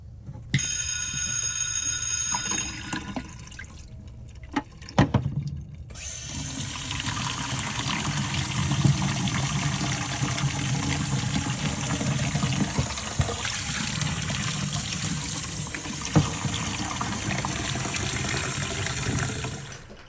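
Water splashes and gurgles as black-and-white film is washed in a developing tank through repeated fill-and-empty cycles, starting with a bell-like ringing, then clunks and a continuous rushing, trickling flow close by.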